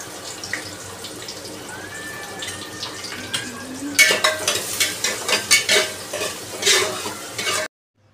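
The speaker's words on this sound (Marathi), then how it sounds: "त्यानंतर मी याच्यामध्ये ना बारीक चिरलेला कांदा टाकला." Finely chopped onion sizzles in hot oil with whole spices, joined by a quiet crackle and then a run of rhythmic scraping stirs that stop abruptly near the end.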